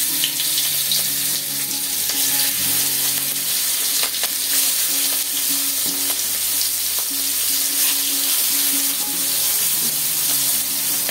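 Hilsa fish sizzles steadily in a pan of hot oil with cumin seeds, a continuous loud frying crackle lasting throughout with faint scraping stirs and no voices.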